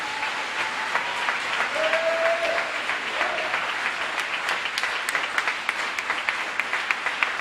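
A church congregation breaking into sustained applause, a dense, steady wash of many hands clapping at a moderate distance, with a brief whistle-like tone near the start.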